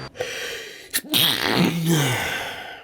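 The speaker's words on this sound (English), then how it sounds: "It was a sneeze coming on." A single sharp sneeze bursts out after a quick intake of breath, followed by a drawn-out vocal reaction, close to the microphone.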